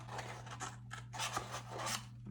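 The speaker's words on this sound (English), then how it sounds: "It just makes it a little bit easier to use your scissors to cut it." Scissors snip and rasp through a cardboard paper towel roll at close range, several crisp cuts and scraping blade strokes over a steady low hum, with no talking.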